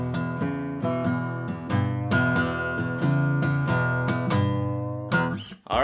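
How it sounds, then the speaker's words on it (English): A guitar plays a blues shuffle, a loping riff of repeated plucked notes in a steady swung rhythm, close and fairly loud for several seconds before a quick strum and stop, with no talking. "So a blues shuffle sounds something like this."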